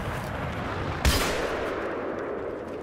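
Gunfire in the Battlefield 3 Caspian Border conquest match: a single sharp, loud shot about a second in, ringing out over a constant dense background of battle noise and rumble.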